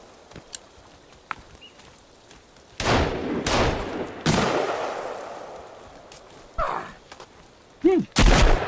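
Gunshots fired at an enemy in the survival game Sons of the Forest, a few loud broadband blasts with long decaying tails plus some sharp bursts near the end, with scattered clicks in between.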